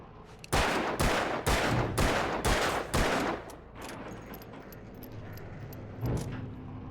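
Six loud gunshots fired at a chain in Alan Wake, evenly spaced about every half second with broad sharp bursts, then a quieter pause and one final shot, all close and without talk.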